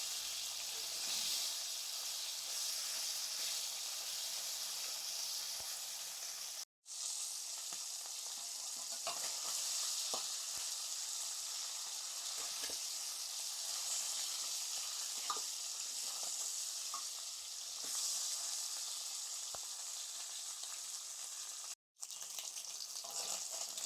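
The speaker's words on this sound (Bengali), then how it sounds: "মাছের মাথাগুলো ভাজা হয়ে গেছে।" Fish heads fry in oil for a Bengali murighonto, giving a steady, close hiss and sizzle with faint crackles, broken twice by brief dropouts, and no one speaks.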